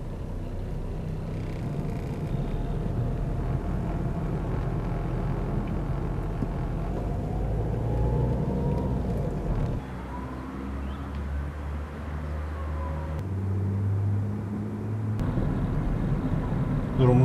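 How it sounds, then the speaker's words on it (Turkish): Heavy traffic rolls along the Adana–Gaziantep–Tarsus highway near Iskenderun, a continuous loud roadway rumble and whoosh of passing vehicles with shifting engine tones throughout. "Adana Gaziantep Tarsus otoyolunda yoğun trafik."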